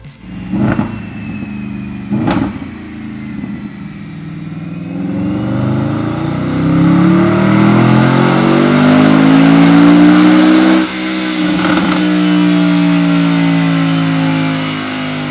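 A Mercedes SLS AMG Black Series engine revs up on a dyno, climbs steadily to a loud, sustained high-pitched roar, dips briefly, then holds near full throttle.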